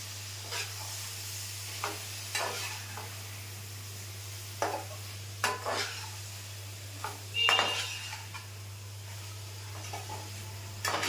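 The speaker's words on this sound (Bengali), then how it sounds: "আবার নাড়া দিতে থাকবো।" Soybean ghugni stirred in a pan with a spoon, irregular scrapes and metallic clinks every second or so over a low steady hum and faint sizzle, no voices.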